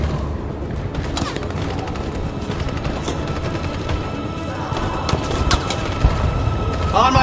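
Dense gunfire and impacts fill a combat scene in the video game Detroit: Become Human, with overlapping shots, crashes and booms over a busy background while voices are faintly present.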